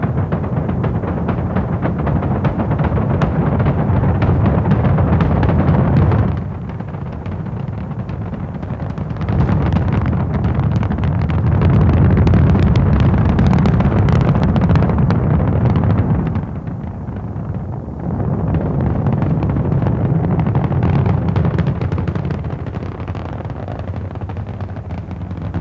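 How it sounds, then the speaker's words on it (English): Apollo 9 Saturn rocket engines roar at liftoff in a loud, continuous, broadband rumble that swells and dips in long surges, with no voices over it. "All engines running. Commit. Liftoff."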